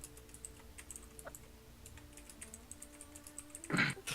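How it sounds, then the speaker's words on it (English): Soft, rapid clicking of keys on a mechanical keyboard ticks along quietly at a distance, ending in a louder burst near the end. "Oh, Typing. oh, it's a mechanical keyboard."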